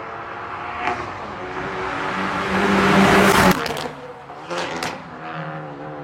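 A 300-horsepower Hyundai i30N engine revs and roars, peaking in volume midway, then fades and recedes into the distance with a few lingering bursts.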